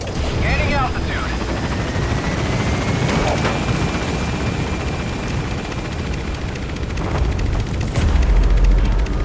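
A helicopter in the video game Metal Gear Solid V: The Phantom Pain climbs with a loud, steady rotor roar throughout, with a few brief thumps near the end.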